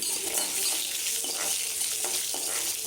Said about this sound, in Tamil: இப்போ பூண்டு வெங்காயம் இதெல்லாம் போடணும் இது நல்லா ஃப்ரை ஆகணும்